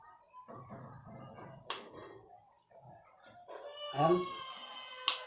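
A chicken clucks and squawks in short, sharp bursts nearby, with quiet voices and scattered rustling in between.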